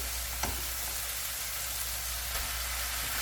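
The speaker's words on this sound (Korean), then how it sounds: "다 투명하게 됐고 이번에 이제 시금치를 넣어줍니다." Spinach added to onions frying in a pan while cooking Korean japchae, giving a steady, fairly quiet sizzle with a faint clink early on.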